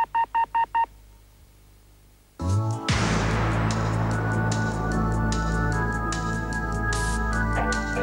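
A telephone keypad dials a rapid string of five touch-tones, clear and close, followed by quiet and then a burst of loud music or broadcast sound.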